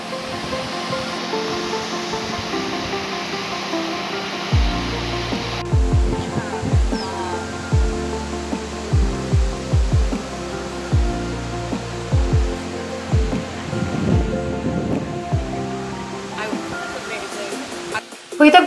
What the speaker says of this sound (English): And there's the waterfalls!